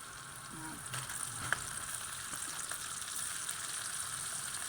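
Butter shrimp sizzling and frying in a pan, a steady crackling hiss with a few brief pops and faint stirring clatter, heard alone at moderate closeness.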